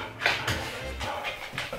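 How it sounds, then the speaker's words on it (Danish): Two pet dogs whimpering and whining in soft, breathy bursts, several short rising cries close by with a faint low background. "prøv at høre, det er begge mine hunde"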